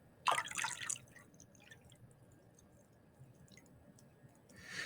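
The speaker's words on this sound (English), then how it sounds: "we are going to pour that into the cylinder as well." Water is poured from a plastic cone into a cylinder in a brief, quiet splash and trickle that lasts under a second, then fades to near silence with a few faint drips.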